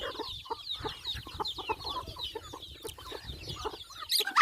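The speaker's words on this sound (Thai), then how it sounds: "ทางนี้สิเป็นกลุ่มไก่น้อยนะพี่น้อง" Chickens and small chicks on a farm, soft clucking and high peeping chirps scattered irregularly at close range, fairly quiet, with a louder squawk near the end.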